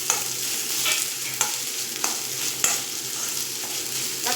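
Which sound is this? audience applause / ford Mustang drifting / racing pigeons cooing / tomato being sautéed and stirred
tomato being sautéed and stirred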